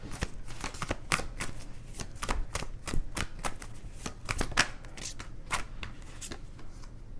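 A deck of tarot cards is shuffled close up in a quick, steady run of crisp riffling snaps and flutters lasting several seconds, with no voices over it.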